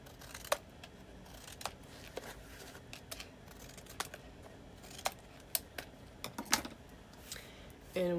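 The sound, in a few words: scissors cutting small triangles off paper corners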